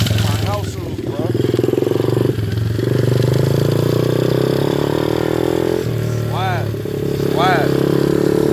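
A Tao Tao 125cc motorcycle engine hums steadily nearby with small shifts in pitch, while people talk loudly over it.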